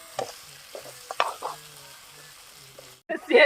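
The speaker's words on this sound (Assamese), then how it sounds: "আমি ঢালি দিলোঁ গাহৰি গোটাইখিনি পুৰা ভাজি যাব লাগিব" Pork sizzling in a pan with repeated scraping stirs of a spatula, ending in a louder burst of frying noise.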